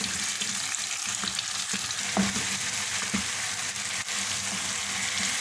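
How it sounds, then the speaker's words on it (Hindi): Marinated chicken for angara frying over high heat in a pan, a steady dense sizzle throughout with occasional stirring scrapes, close and continuous with no talk. "अब इसको तेज़ आंच पे 10 मिनट पकाएंगे।"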